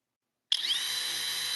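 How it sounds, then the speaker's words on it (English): A regular (non-hydraulic) impact driver starts abruptly and runs loud and close at a steady high pitch for about a second, with no voices. "how much louder a regular impact is compared to a hydraulic impact driver that has hydraulic fluid in it"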